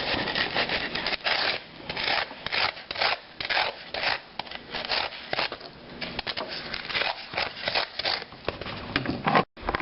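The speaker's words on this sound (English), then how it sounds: "Our next step is just to sand them out." Layered styrofoam being sanded for a Warhammer 40k bunker, a steady dense rubbing and rasping that runs continuously at close range with short rhythmic strokes and no talking.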